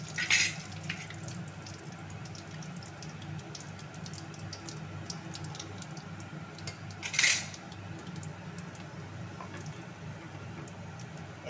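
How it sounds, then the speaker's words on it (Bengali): Whole garam masala frying in oil in a wok gives a steady, soft sizzling hiss throughout, with a couple of brief metallic clinks, close and without voices. "কড়াইতে তেল দিয়েছি, গোটা গরম মশলা সব কিছু আছে এর ভিতরে।"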